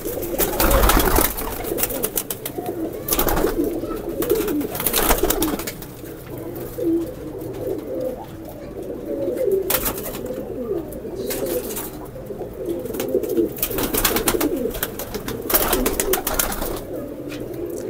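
Indian highflyer pigeons coo in a loft, soft repeated low cooing calls overlapping near and far, mixed with bursts of wing flaps and rustling.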